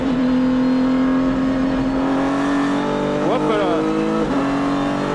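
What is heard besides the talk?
Renault RS01 race car accelerating on track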